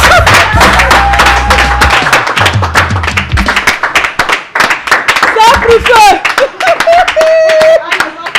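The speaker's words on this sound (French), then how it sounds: "Applaudissez encore, c'était chaud" Audience clapping at a bikutsi music show, a dense run of sharp hand claps filling the stretch alongside music and a voice talking and singing over it.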